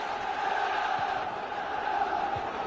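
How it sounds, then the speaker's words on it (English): A football crowd at a 1992-93 Premier League match between Aston Villa and Sheffield United roars steadily in support of Aston Villa during a corner, a continuous broad stadium wash with no single voice standing out. "The crowd get behind Villa as Breitkreutz takes the corner."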